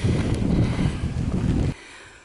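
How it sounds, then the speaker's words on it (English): Strong wind on a hill climb buffets the microphone with loud, rumbling gusts for most of the moment, then drops off abruptly to a quieter background. "And it's windy."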